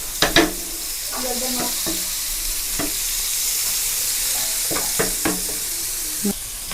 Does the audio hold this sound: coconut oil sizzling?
yes